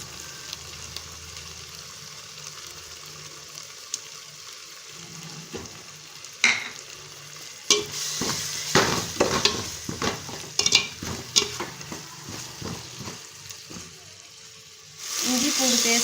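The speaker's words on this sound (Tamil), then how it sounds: "இந்த ஸ்டேஜில் நம்ம வந்து இஞ்சி பூண்டு பேஸ்ட்டு சேர்த்துக்கலாம்." Ginger garlic paste frying with softened tomatoes in a pan for ghee rice, a low sizzle swelling into louder bursts of frying and rapid stirring scrapes, with a final loud hiss at the end.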